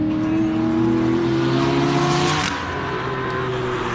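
A BMW Z4 race car powered by a Chevy LS7 V8 roars at a hillclimb, a loud sustained engine drone climbing in pitch, then dipping briefly as it shifts and pulls away.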